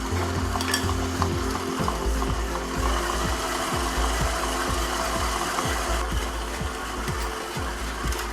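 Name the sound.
mixer running while egg whites are added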